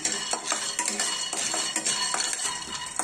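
A metal spoon clatters and scrapes in a pan as chickpeas fry for stuffed eggplant curry, quick irregular clinks and stirring strokes close to the mic, with faint sizzle beneath.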